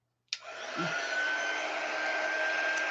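A hair dryer switches on with a sharp click and runs in a steady, loud, close whoosh to dry a wet craft banner piece meant for a TV console table, holding constant after a brief ramp-up with no talking.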